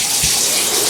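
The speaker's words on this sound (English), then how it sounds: "So I'm going to turn the water on over here." Water gushing steadily from a tap to rinse a euphonium, a loud, close, continuous rushing flow.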